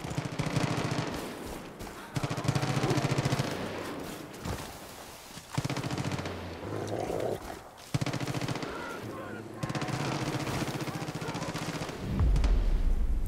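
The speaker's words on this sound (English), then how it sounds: "Oh, I can hear them shoot." Enemy gunfire in the video game Far Cry 5: sustained bursts of automatic fire and scattered shots roll on continuously, loud and dense, with a few pauses and a heavy thud near the end.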